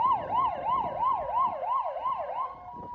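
A police car siren during an escort of accident victims' remains in Taitung, Taiwan, wailing loud and close in a rapid rising-and-falling cycle of about eight sweeps, with faint road noise underneath.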